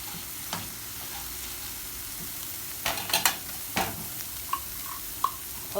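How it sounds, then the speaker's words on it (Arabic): Three cloves of garlic fry in a spoonful of oil in a pan, a soft steady sizzle running throughout while a utensil stirs and scrapes in a few distinct clinks and knocks toward the end. "عندي المقلاية فيها معلقة زيت، راح احط فيها توم، شي 3 اسنان توم. بقلبهم هيك لحد ما تطلع ريحتهم شوي"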